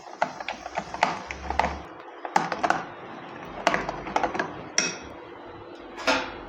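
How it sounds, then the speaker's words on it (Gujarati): Dhokla batter with Eno and a splash of water is stirred quickly in a bowl, a rapid run of close, sharp clicks and taps from the utensil against the dish, irregular and fairly quiet, no voices. "ફટાફટ મિક્સ કરી લઈશું"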